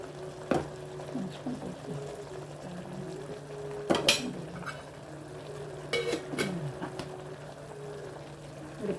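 A spoon stirs cumin, fennel and curry powders in a cooking pot for a country chicken gravy, giving a few scattered scraping strokes over a soft, steady sizzle.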